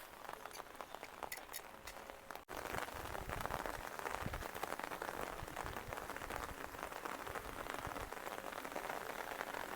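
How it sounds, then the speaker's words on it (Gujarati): Steady rain pours down, a dense hiss of drops with scattered clinks on hard surfaces, briefly lighter at first then heavier and constant. "આવ્યો વરસાદ આવ્યો"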